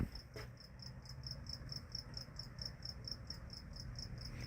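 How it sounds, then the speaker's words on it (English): A male cricket chirps in a steady, rapid rhythm of pulses outdoors at night in Los Angeles, clear over a low rumble of traffic or engine noise, with no voices. "Oh, you hear the cricket?"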